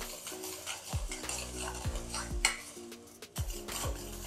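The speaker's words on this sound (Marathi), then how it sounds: "आता हे बघा आपली चटणी अशी चांगली परतून घ्यायची" Egg chutney bhurji being stirred in a hot pan, a spatula scraping and clinking against the metal in repeated strokes over a steady close sizzle, with no talking.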